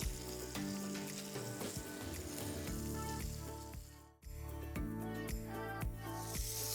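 Spare ribs frying in oil in a pan, a steady close hissing sizzle with stirring scrapes and clatter, briefly dipping at one point before the sizzle resumes just as strong.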